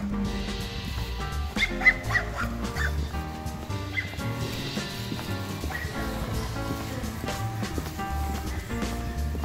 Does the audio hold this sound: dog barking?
yes